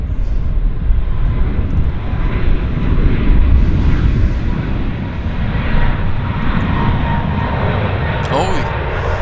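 An airliner bound for Edmonton takes off at Vancouver airport, its engines roaring loud and sustained at close range with a broad rumble, while people talk over it.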